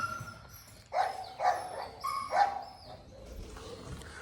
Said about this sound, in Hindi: गुलाबों मुझे भौंक भौंक कर आसमान सर पर उठा लेती है